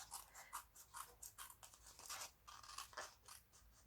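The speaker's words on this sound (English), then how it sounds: "so I need to just use my scissors" Scissors trimming excess paper on a folded Stampin' Up! treat bag, with a quick series of crisp snipping cuts in an uneven rhythm, close and moderately quiet, with no voices.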